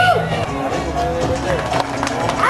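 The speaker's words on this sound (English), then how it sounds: "Clapping and cheering" Sustained clapping and cheering from a crowd at a Harley-Davidson dealership pageant, dense applause with scattered whoops and shouts, steady and close throughout.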